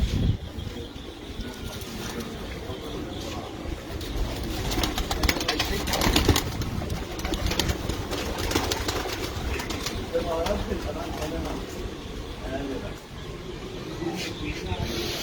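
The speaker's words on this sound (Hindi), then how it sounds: "ये टैडी कबूतर अंदर कर दो" Teddy pigeons at a breeder's loft coo softly and steadily, close by, with occasional wing flaps and someone talking over them throughout.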